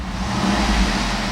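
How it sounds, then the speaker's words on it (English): A 6.2 liter V8 in a 2009 Cadillac Escalade revs in a steady, loud, close drone with deep low rumble throughout a short burst, no voices. "I'm going to rev the engine."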